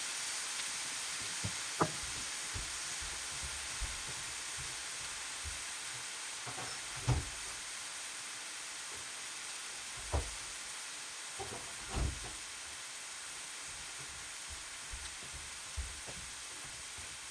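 Steady, faint sizzling of onions browning in a frying pan, with occasional soft knocks and clinks of a utensil scattered throughout.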